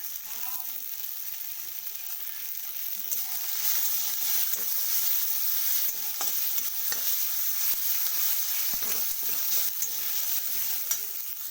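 Charred ginger sizzles and crackles in a hot pan while being stirred, a steady bright frying hiss with occasional scraping clicks, close and alone.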